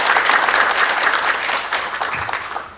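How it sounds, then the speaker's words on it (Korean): A hall full of people applauds at an accounting law symposium in Korea, steady dense clapping that holds for the whole stretch and eases slightly toward the end. "큰 박수로 맞아주시면 감사하겠습니다."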